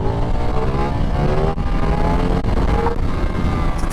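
A 2025 Ducati XDiavel V4 motorcycle cruises with its engine running on just two cylinders, a loud, continuous, throaty exhaust drone close by with steady pitch and a slight rise toward the end.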